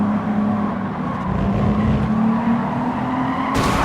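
Racing engine roaring steadily with tires squealing and skidding in the video game Gran Turismo 7, loud and close, ending in a sudden harsh burst of noise as the car hits a wall.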